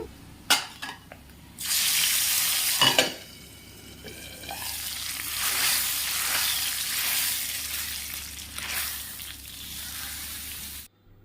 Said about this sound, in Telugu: పప్పులకి పోపు వేసేటప్పుడు సౌండ్ చాలా బాగా అనిపిస్తుంది